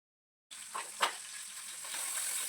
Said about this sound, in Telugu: పచ్చిమిర్చిని అయితే వేయించేసుకుంటే చాలు